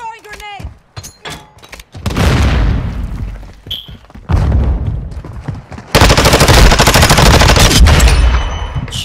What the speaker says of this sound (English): I'm throwing grenade!